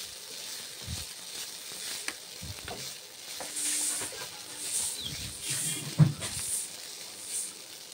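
Poha pulao frying and being stirred in a pan gives a soft, steady sizzle, with scraping and stirring clatters scattered throughout and no voice over it.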